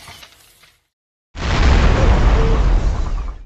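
A gas pipeline explosion erupts after a brief quiet, a deep roaring boom that rumbles on loudly and steadily for a couple of seconds.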